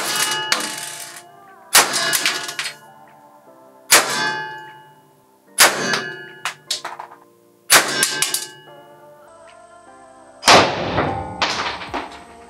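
A Joker Kurs signal pistol firing 5.5 mm pellets, about six sharp close reports spaced a second or two apart, each followed by a bright metallic ringing clang that fades out.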